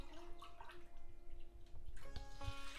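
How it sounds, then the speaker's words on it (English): Water is poured from a mug into a cooking pot of washed dal, a soft splashing and gurgling stream heard close and fairly quiet, with a brief heavier splash near the end. "And now you start putting water in it."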